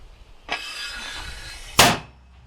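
A mortar shot booms out with a sharp, loud blast, preceded by a sustained hissing, rushing noise; no one speaks. Frontline firing near Horlivka, Ukraine.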